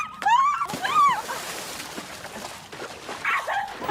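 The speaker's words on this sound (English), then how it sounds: "What the hell is up with this dog?" A cartoon dog barks, yips and whimpers in a few loud, close bursts, followed by softer scuffling sounds and another whine near the end.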